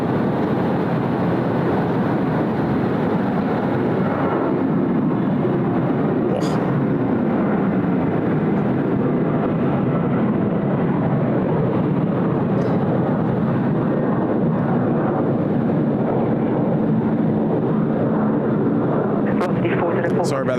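Qantas airliner rolling down the runway after landing at Sydney Airport, a loud sustained low engine rumble and roar throughout, with talk over it.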